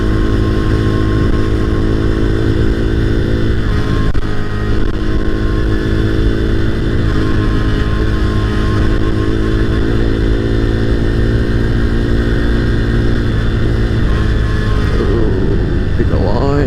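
A motorcycle engine drones loudly and close on a gravel road, its harmonic pitch shifting and steadily falling as it downshifts, with a voice talking over it.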